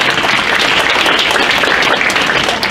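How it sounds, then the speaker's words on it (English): An audience at a fall reading-series event claps for the event organizer, a dense, continuous wash of many hands applauding throughout, fairly loud and without any voices. "Give her a round of applause"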